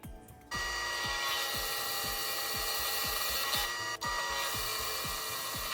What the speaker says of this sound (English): Then mark some spots for the Forstner bit.